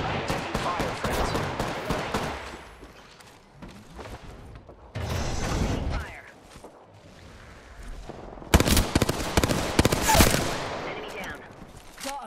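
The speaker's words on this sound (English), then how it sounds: "Opening fire." Gunfire in the Apex video game: rapid bursts of automatic shots in several loud clusters separated by pauses, with mechanical clatter and a sharp blast late on.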